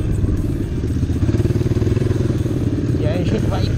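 A Honda CRF 230 off-road motorcycle engine chugs close by with a rapid, pulsing low thrum during trail riding, steady and fairly loud, with a brief sharper whine near the end.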